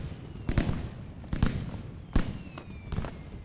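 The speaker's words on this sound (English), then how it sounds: "More fireworks." Fireworks burst in quick succession in the video game Hi-Fi Rush, several sharp booms with crackling tails and faint whistles over a steady background rumble.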